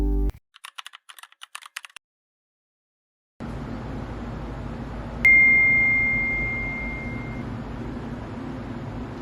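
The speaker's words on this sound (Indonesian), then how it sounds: "Ada notif nih dari perusahaan yang kemarin aku lamar." Quick keyboard typing clicks lead into a pause, then a steady room hum, before a single clear electronic notification beep rings out on a phone and fades slowly, with no talking.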